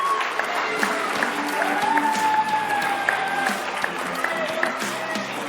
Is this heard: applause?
yes